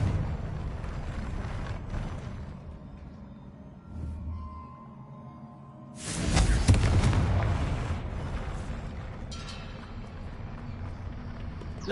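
A Confringo fire-blast spell in Hogwarts Legacy, with rumbling booms and a loud sudden burst midway that decays into a crackling roar.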